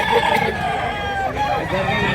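A rooster crows nearby at a chicken market in Mantalungon, Cebu, a loud, drawn-out call heard over other birds, with people talking at the same time.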